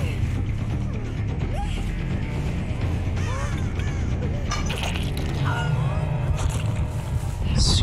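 Crows caw in the Dead by Daylight video game, several harsh calls scattered over a busy game soundscape of mechanical clanks and cracks, with some voice nearby.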